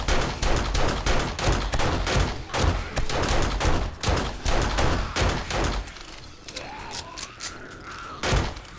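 Unsilenced gunfire in 7 Days to Die, a rapid, loud run of repeated shots at close range, stopping before a final single shot, with a rising electronic tone in the pause.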